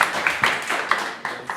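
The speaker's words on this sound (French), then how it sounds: "On l'applaudit, s'il vous plaît." Small audience at a poetry night in a Montreal bistro clapping for a poet, a brief scatter of hand claps with a few sharper slaps standing out, fairly close.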